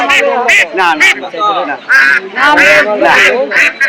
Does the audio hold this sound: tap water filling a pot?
no